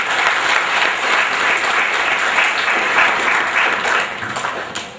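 Audience applause at a Tamil-language event, sustained and dense from start to finish at steady strength, with no voices standing out above the clapping.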